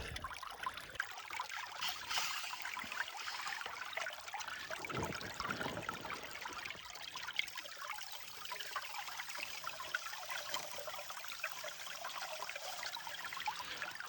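Water trickling and pouring steadily from a bucket through a gold prospecting sluice, a continuous close splashing flow that runs unbroken for the whole stretch with no talk over it.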